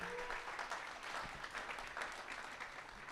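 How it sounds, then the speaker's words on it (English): An audience at a startup pitch event finale in Calgary applauds steadily, a thick wash of clapping heard from within the room with no pause. "please give yourselves a round of applause"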